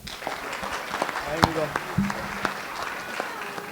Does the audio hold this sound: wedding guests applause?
yes